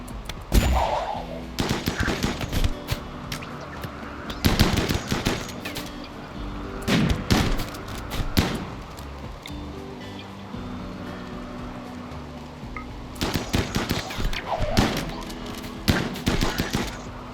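Combat gunfire in the colony-sim game RimWorld: repeated loud bursts of rapid shots in clustered volleys, separated by quieter gaps, with a few single cracks between them.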